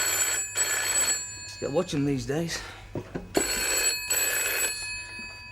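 An old landline telephone rings in a 1983 home in Coronation Street, with regular double bursts of bright ringing that stop and restart while people talk between and over them.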